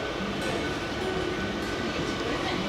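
Howrah–Digha local train pulling into Digha station, a steady close rumble of carriages filling the whole stretch at a constant level, with no speech.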